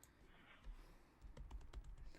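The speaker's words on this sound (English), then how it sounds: "I'm just going to type them in" Typing on a computer keyboard during a live gaming stream: quiet, quick clusters of key clicks, sparse at first and then a denser burst of taps, with no talking.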